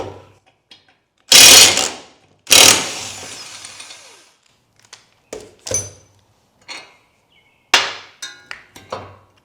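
Hand tools strip a Nissan S13 car's front suspension to reach the wheel bearing and knuckle: sharp metallic clanks and knocks, then lighter ratcheting clicks and taps, close up with quiet gaps between.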